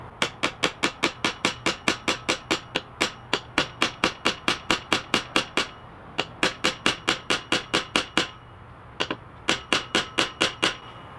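A hammer pounds a Schrade SCHF43 knife in with a long run of sharp, evenly spaced metallic strikes, close and loud, pausing briefly twice before resuming.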